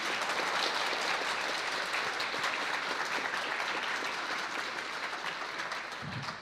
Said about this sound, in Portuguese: Uma salva de palmas para Marília.